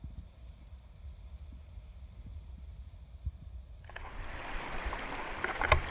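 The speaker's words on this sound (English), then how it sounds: "I made it to the waterfall just below Hamilton Lake" A waterfall just below Hamilton Lake on the High Sierra Trail starts as a faint rumble and swells into a broad, steady rush of falling water, growing louder toward the end.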